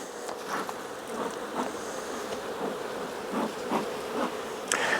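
Honey bees from a hive that has just swarmed buzz steadily and close by, a dense insect drone with brief louder passes near the hive during beekeeping work.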